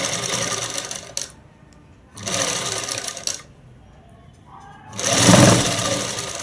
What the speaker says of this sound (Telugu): ఇప్పుడు ఇలా పెట్టేసి కుట్టు అనేది వేసేస్తాను